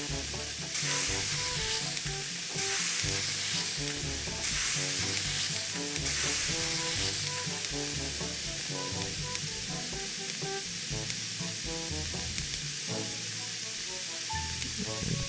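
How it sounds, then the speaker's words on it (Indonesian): Chicken sizzling on a grill in a kebab restaurant cooking simulator game, a steady, continuous frying hiss running evenly and fairly loud throughout, with a bright musical game soundtrack playing along underneath. "sekarang kita akan lanjut lagi di grill lagi. Kita fokus ayamnya dulu deh."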